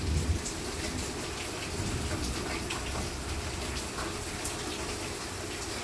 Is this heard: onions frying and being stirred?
no